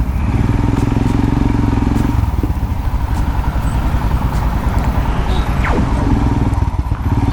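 Royal Enfield Himalayan motorcycle riding, a loud, close, continuous engine thrum with a steady low pulse, one brief pitch sweep, and wind rushing throughout.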